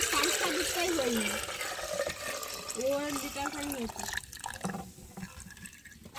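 Water pours into a kettle from a tap in a village setting, a steady splashing fill that changes pitch as the kettle fills, with a voice speaking over it and some clatter near the end.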